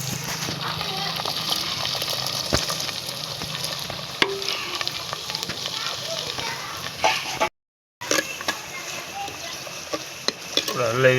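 Cumin seeds and chopped onion sizzling in hot oil in a pan, while a jackfruit curry is cooked. Steady close frying hiss with stirring scrapes throughout and a brief cut near the end.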